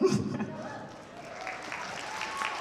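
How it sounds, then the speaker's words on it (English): An audience at a cosplay masquerade breaks into a fairly soft round of applause that starts strongly and thins out, with a voice speaking over the clapping. "one more round of applause to our tireless tech"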